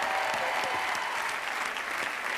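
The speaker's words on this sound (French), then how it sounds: "je voudrais qu'on l'applaudisse très fort" Steady, dense applause from a studio audience greeting a guest singer on a French Saturday-night TV variety show, loud and sustained throughout with no pauses.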